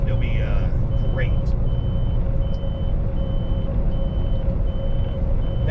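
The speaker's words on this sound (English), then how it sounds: "That beeping means we got the green light and we don't have to go into the scale house." Short electronic beeps from a truck weigh-station signal repeat at an even pace over a rumbling truck engine, with a brief squeal of brakes near the start.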